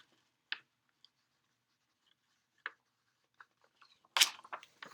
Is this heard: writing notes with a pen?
yes